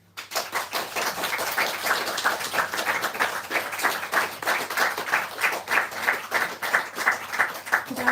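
Sustained audience applause at a Writers for a Free Palestine event, dense and steady with rapid overlapping claps filling the room for the full stretch, with no speech.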